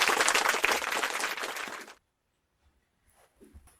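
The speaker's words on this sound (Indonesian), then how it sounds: "Tepuk tangan semuanya." A primary school class applauds a student group after their presentation, loud dense clapping for about two seconds that stops abruptly, followed by faint room sounds.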